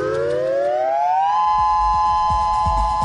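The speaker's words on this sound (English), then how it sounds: "Sirens sound alarms when a killer wave is going to strike land." A loud tsunami warning siren rises in pitch and then holds a steady wailing tone, with low thumping noises underneath.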